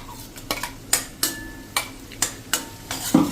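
Tomato puree stirred into a frying guvar (cluster bean) curry in oil, about eight regular sharp scrapes and taps of a spoon against the pot over a low sizzle, close and fairly loud, with no speech.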